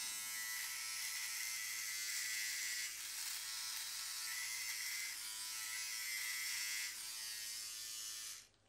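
Philips OneBlade electric razor fitted with a 3 mm body comb, trimming body hair with a steady, close, high-pitched buzz that holds for several seconds and then cuts off abruptly.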